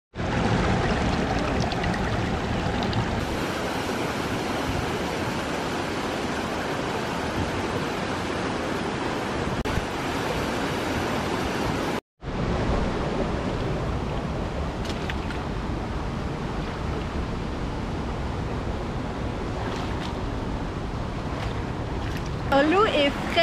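River water rushing over rocks in Podgorica, Montenegro, a steady, loud broadband roar close by that runs almost unbroken, with one brief cut partway through.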